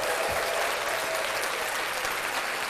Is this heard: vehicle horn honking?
no